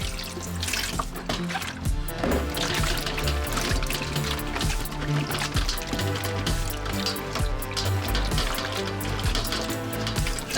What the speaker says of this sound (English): I'm going to apply some vinegar.